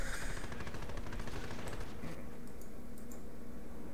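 Machine gun fire in Company of Heroes crackles in dense, continuous rapid bursts, loud and steady for about two seconds before thinning out among other battle noise.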